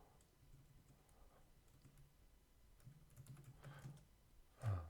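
Soft, quick keystrokes patter on a computer keyboard at a telemedicine practice desk, uneven bursts of quiet clicks with a louder thump at the very end.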